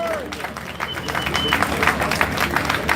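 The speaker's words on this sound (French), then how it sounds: "Louis-Georges Autain, applaudissez-le encore s'il vous plaît." An audience at a public gathering claps in a dense, continuous wash of applause, with some voices mixed in.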